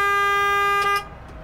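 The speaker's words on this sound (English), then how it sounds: "you could turn that horn into an electric horn or the air horn" Air horn on a Kenworth T300 truck, switched over from the electric horn, blasts one loud, steady, bright multi-tone note for about a second, then cuts off, leaving low engine rumble.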